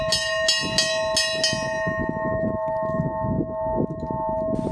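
A large bell on the summit of Mount Ryuo is struck forcefully several times in quick succession, its bright metallic strikes ringing out over a sustained humming tone that lingers after the strikes stop.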